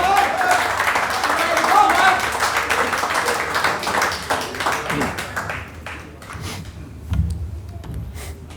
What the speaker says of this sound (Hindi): आपकी भरपूर तालियों में इस्तक़बाल कीजिए